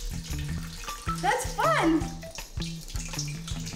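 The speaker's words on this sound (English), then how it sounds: "all the water's gonna spill out" Water spilling and splashing out of containers during a kids' home science experiment, a rushing pour under excited voices and cheering, with a short musical jingle playing along.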